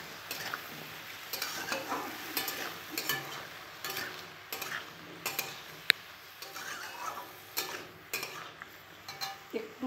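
A spatula stirs food in a pan on a home stove, with rice cooking alongside: repeated scraping strokes in an irregular rhythm over a steady sizzle, close and moderately loud, with no talking.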